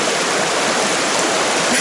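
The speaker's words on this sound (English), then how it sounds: "here this water comes from the glacier all the way to the lake." Glacier-fed stream flowing into Moraine Lake near Lake Louise, a steady, loud broadband rush of water close by, continuous and alone with no voices.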